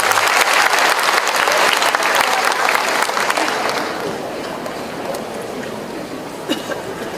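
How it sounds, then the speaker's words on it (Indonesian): A large audience at a pesantren anniversary celebration gives a loud round of applause for the MPR chairman, dense clapping that tapers off into scattered claps and room noise. "Kita beri tepuk tangan untuk Ketua MPR kita."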